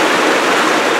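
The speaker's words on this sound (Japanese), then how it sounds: "本当にこのような綺麗な、クリーク" Creek water flowing along the Pipiwai Trail on Maui, a loud, steady broadband rush of tumbling water heard close by, with no voices.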